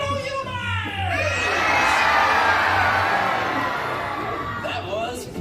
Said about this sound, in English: throw your hands into the air and scream like this